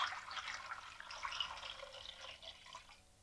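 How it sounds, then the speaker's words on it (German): A quiet, steady stream of cold water splashes and trickles into a large pot holding a chicken, fading toward the end. "jetzt wird so viel kaltes Wasser angegossen"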